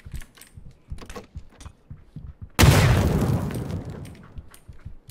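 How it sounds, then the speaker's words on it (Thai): A grenade explodes in the video game PUBG: one sudden loud boom that decays over about two seconds. Soft keyboard-like clicking can be heard before and after. "ระเบิด"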